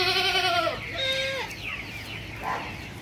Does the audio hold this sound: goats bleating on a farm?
yes